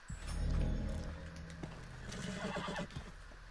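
A horse in a cowboy video game whinnies loudly and at length near the listener, then hooves clip-clop in a steady rhythm. No one speaks.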